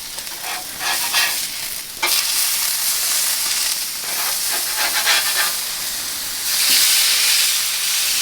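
Powdered eggs with peppers, onions, mushrooms and cheese sizzle on a camping griddle, a steady bright hiss rising in bursts as the food is stirred and scraped, close and without talking.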